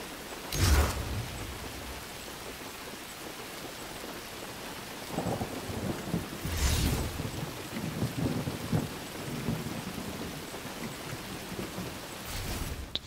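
Steady rain pours throughout in the Forza Horizon 3 video game, with three sharp thunder cracks spaced several seconds apart and a rolling rumble between them.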